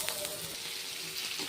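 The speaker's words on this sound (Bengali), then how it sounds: "এখানে আলুটা ভাজা হচ্ছে।" Diced potatoes frying in a pan of hot oil give a faint, steady hiss that runs through the whole moment with no break.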